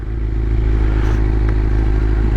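A 2001 Kawasaki Ninja ZX-6R engine runs close by with a steady, dense mechanical drone and a light clattering texture, loud and uninterrupted, with no voices.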